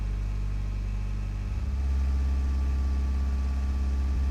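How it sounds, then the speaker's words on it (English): A car engine hums steadily while driving, a low constant rumble that swells slightly partway through, close and continuous with no talk. "I'm kind of driving right now."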